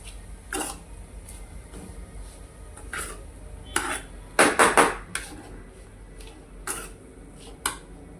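A spatula scrapes and clinks against a pan while onion poha is stirred and mixed, with sparse sharp clatters and a brief flurry of scraping near the middle over a quiet background.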